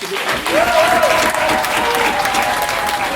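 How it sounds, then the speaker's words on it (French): A concert audience in Bas Mauco applauds loudly and steadily for a stage lighting technician, a dense wash of clapping with a voice briefly audible above it. "Vous pouvez l'applaudir très fort."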